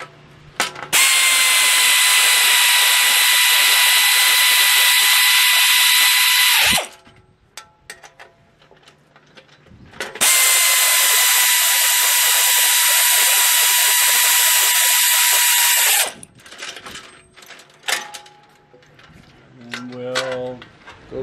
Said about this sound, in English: we're gonna go back around to this side and tighten a little.